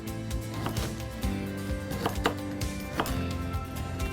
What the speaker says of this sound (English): You would peel it all down, and then you're going to cut it.